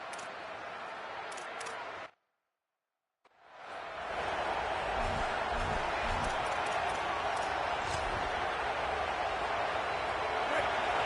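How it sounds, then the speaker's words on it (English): A dense, roaring college football stadium crowd in College Football 27 fills the air, cutting out briefly to silence before surging back loud and steady with a broadcast voice talking over it. "This crowd bringing the energy and noise early."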